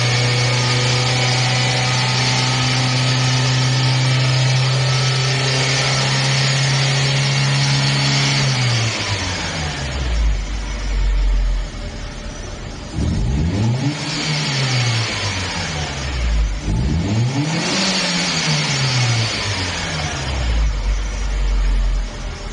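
Car engine undergoing a pre-conversion test for natural gas (GNV): steady idle at first, then repeated loud revs rising and falling in pitch, close and continuous with no talking.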